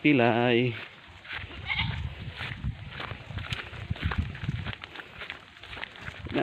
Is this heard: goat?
yes